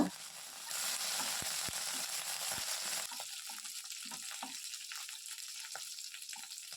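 A loud burst of hissing oil rises as something drops into a hot pan, then settles into steady crackling with spoon taps and stirring.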